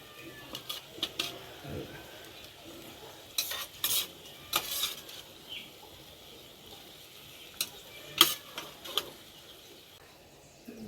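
A spoon stirs fish curry in a pot on a wood-fired clay stove, giving scattered soft clinks and scrapes against the metal over a faint background murmur.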